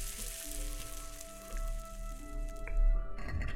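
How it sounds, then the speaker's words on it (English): A beet cooks in the Kingdom Come Deliverance video game, giving a short burst of sizzling and frying over a steady low game hum, with faint tonal music and a brief louder swell near the end. "Let's cook a beet."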